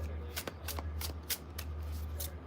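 A new deck of tarot cards is shuffled by hand in short riffling bursts, a handful of crisp flutters separated by brief pauses over a quiet room hum.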